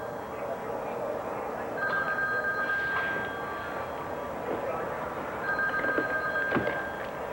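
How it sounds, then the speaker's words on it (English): A telephone rings twice in a domestic scene: two bursts of electronic trilling separated by a pause, over a steady background hum. "Let her answer the phone."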